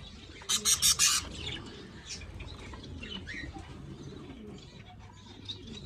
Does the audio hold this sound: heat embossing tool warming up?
no